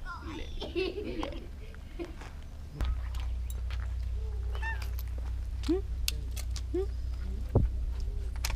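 Cats on Aoshima cat island in Japan give several short meows scattered through the scene, fairly close, while people talk and laugh nearby over a low outdoor rumble.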